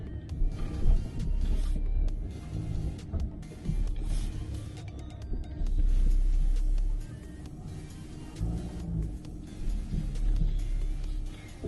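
A 2022 Land Rover Discovery Commercial crawling over rough off-road terrain, a low rumbling engine and drivetrain with bumps and knocks, fairly steady and close, without voices.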